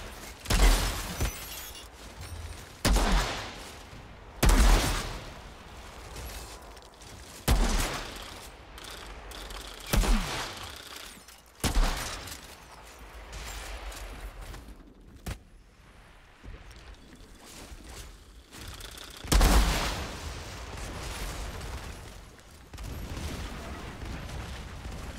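Sniper rifle shots in the video game Outriders, sharp loud cracks fired one at a time at irregular intervals, each followed by mechanical clicking and clattering, over a low background rumble.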